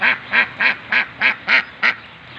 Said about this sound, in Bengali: আমার হাঁসটাও বৃষ্টিতে প্যাক প্যাক করে ডাকছে